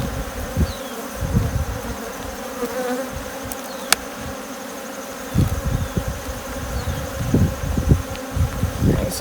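Honey bees buzz continuously around an opened hive, a dense droning hum close by, with intermittent bursts of louder low-pitched buzzing from bees flying near.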